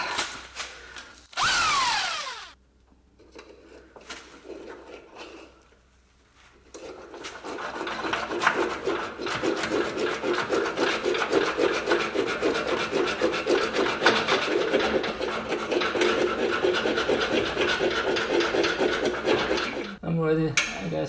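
A hand saw or file rasps back and forth through a bolt on a Jaguar S-Type front subframe, a steady rhythmic grinding scrape that starts after a few brief knocks and continues close up.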